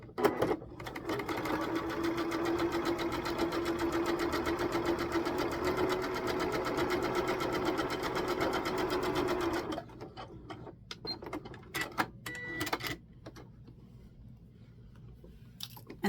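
A sewing machine runs steadily for about ten seconds, stitching a quarter-inch seam on quilt pieces, then stops and is followed by a few short clicks and handling sounds.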